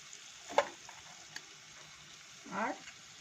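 Spice masala of coriander, cumin and chilli powders fries in a pan, mostly quiet with two brief scraping strokes of stirring standing out, close and clear.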